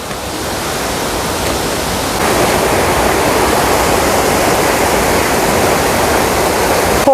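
Manyueyuan waterfall in a forest recreation area near Sanxia roars steadily and loudly, a dense, unbroken wash of falling water that swells slightly after the first couple of seconds and never lets up.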